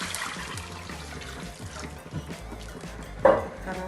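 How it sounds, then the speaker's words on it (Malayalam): Water poured into a pan of fried onions for chicken curry sounds as a steady splashing, hissing pour heard up close, ending in a short louder burst, with no talking over it. "അങ്ങനെ നമ്മൾ ഉള്ളി നന്നായി പൊരിഞ്ഞ് അതിലേക്ക് ഞാൻ ഒരു പാട്ട വെള്ളം ഒഴിക്കുന്നുണ്ട്."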